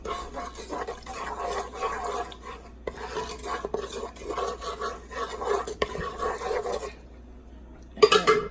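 Brown sugar for Caribbean-style oxtails is stirred in a pot. Close, continuous scraping and swirling fills the clip, then there is a short quiet pause and a final clink.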